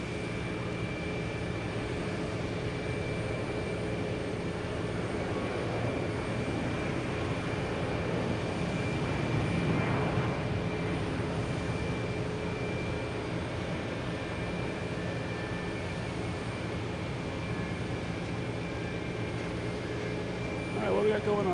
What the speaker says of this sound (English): next takeoff, we have United Airlines heading to San Francisco